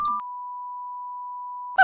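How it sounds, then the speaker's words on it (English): A single sustained electronic beep, a pure steady tone held for nearly two seconds, cut off at the end by a brief burst of other noise. "Why is there a loud beeping noise?"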